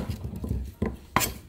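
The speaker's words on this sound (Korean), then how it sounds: "그래서 이렇게 썰어주세요." A kitchen knife chops radish into large chunks on a cutting board, giving a few close, distinct knocks spaced unevenly over a quiet background.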